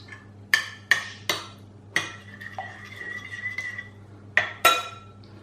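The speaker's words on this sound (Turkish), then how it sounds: "Şöyle bir karıştırıyorum" Stirring a cup of room-temperature yogurt in a bowl for dill pastry dough, a spoon clinking sharply against the bowl several times, with softer scraping strokes between the close, clear knocks.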